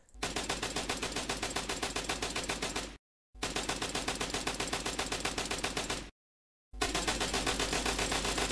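Rapid automatic fire from an FG42 rifle in Call of Duty WWII multiplayer, three long sustained bursts of evenly spaced loud shots separated by brief silent gaps.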